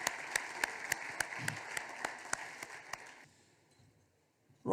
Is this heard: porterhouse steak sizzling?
no